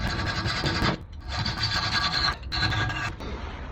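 A bolt being cut to length, fitted with a nut, while mounting a race splitter on a Ford Fiesta ST180: loud, steady rasping strokes in three long bursts separated by brief pauses, close up with no talking.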